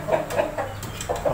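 A brooding hen sitting on her eggs in a chicken coop gives soft, close, repeated clucks in an uneven rhythm over a quiet background.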